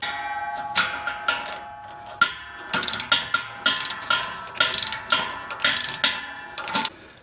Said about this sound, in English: we can start torquing stuff down.